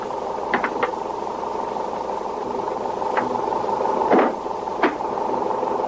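A diesel truck motor idles with a steady, low rumbling hum, broken by a few sharp clicks and knocks nearby.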